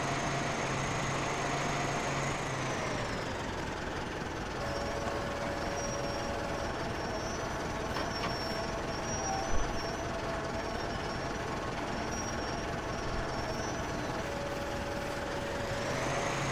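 Tractor engine in a farming video game runs steadily at a low drone, with a faint higher tone shifting as it maneuvers.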